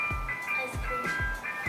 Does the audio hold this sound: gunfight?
no